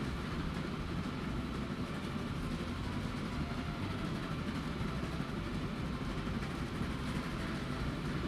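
A train rolls along rails in the Transport Fever 2 game, a steady, fairly quiet rumbling wash of wheel and carriage noise that continues unbroken throughout, with no speech.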